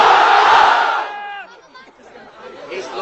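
A large crowd at an outdoor Islamic sermon gathering roars a takbir slogan in unison, loud and massed at first, then fading into a single voice and murmuring.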